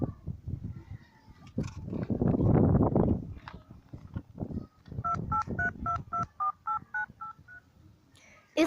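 A telephone dialed in a radio play: a quick run of distinct touch-tone beeps in steady rhythm, close and clear after some muffled rustling and a brief burst of noise.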